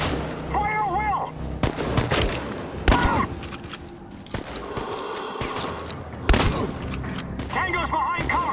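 Gunfire rings out in a Chernobylite firefight, with sharp shots scattered among game noise and layered effects, and voices shouting throughout.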